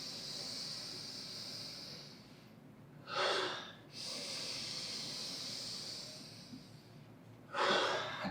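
Two deep, full inhales through the nose during a Breath of Fire breathing exercise, each a loud close rushing hiss lasting under a second, separated by several seconds of quiet room tone.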